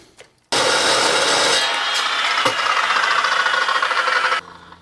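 A worn saw blade cuts steel tubing, 2 by 3 inch heavy-wall, lubricated with WD-40, giving a loud, steady, harsh grinding rasp that starts abruptly and runs about four seconds before cutting off.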